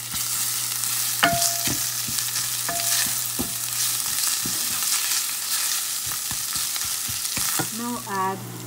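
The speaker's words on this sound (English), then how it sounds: "Add some ginger garlic paste and let it fry for 2 minutes." Ginger garlic paste and turmeric fry in oil for a potato and green peas curry, making a constant close sizzle broken by repeated spoon scrapes and taps against the pan, with no voices.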